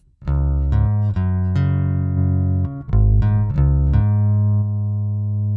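Dry electric bass playing a short run of plucked notes, full and clear with sustained low tones, no effects and no voices.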